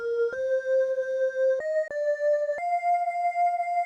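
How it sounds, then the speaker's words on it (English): Synthesized vocal pad from the Dreamland Combi patch sings a few long held notes with a wavering, breathy pulse, stepping between pitches; clean and close, no speech. "And the second sound is vocals."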